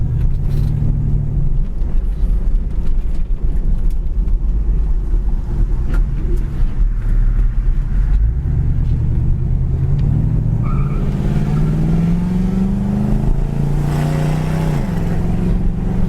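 A 1978 Pontiac Trans Am drives on a bumpy road, its engine note climbing steadily and dropping as it shifts up through the gears, with constant road and cabin rumble.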